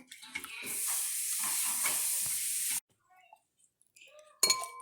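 Spoon stirring Thai tea in a glass, a steady close scraping swirl for a few seconds, then quiet with a few faint clinks and a brief sharp clatter at the end.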